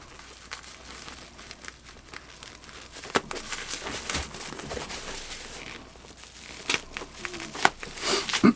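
Bubble wrap is cut and unwrapped from a new set of Peter Henderson bagpipes, heard as close crinkling, rustling and tearing of plastic in irregular bursts, growing busier toward the end, with no clear speech.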